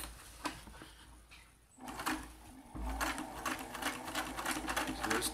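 A vintage Singer 328k sewing machine stitches through stacked denim layers, starting with short bursts and then settling into a steady, close rhythmic clatter of needle strokes.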